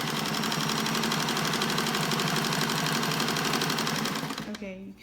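Sewing machine stitching a fabric face mask, running fast and continuous with a dense mechanical chatter for several seconds before slowing and stopping at the end.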